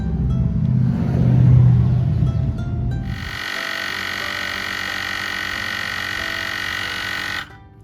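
An ACMOUNT portable inflator compressor pumping up a car tire: after a low rumbling stretch, the motor kicks in with a steady, loud, high-pitched buzzing whine for several seconds, then cuts off abruptly.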